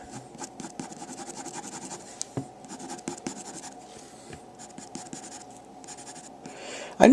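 A Derwent Aquatone Raw Sienna pencil scratches across paper in steady, close, rapid strokes for a flesh-tone drawing, with brief pauses and a slightly louder scrape at the end.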